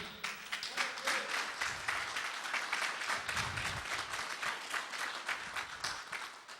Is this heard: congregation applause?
yes